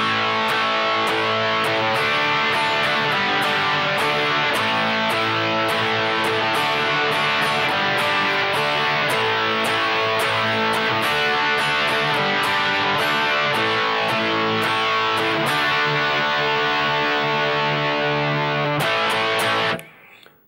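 Heavily distorted electric guitar strums the chords of a chorus in a steady rhythm for about twenty seconds, loud and sustained, ending abruptly.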